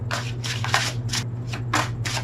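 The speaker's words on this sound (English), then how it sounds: "One more shuffle." A tarot card deck being shuffled by hand, with repeated bursts of riffling and sliding cards in an irregular rhythm, close up over a steady low hum.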